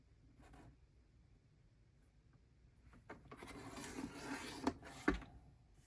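Paper trimmed for a bullet journal spread, quiet at first, then a close rasping cut-and-rub build-up with a couple of sharp snips near the end, no talk.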